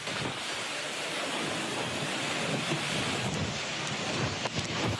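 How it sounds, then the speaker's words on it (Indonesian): Strong gusting wind with heavy rain in a sudden storm at Mangunjaya village, Pangandaran, West Java, roaring as a loud, dense, continuous rush with buffeting on the microphone and no voices. "Angin ribut disertai hujan deras terjadi secara mendadak di Desa Mangunjaya, Pangandaran, Jawa Barat."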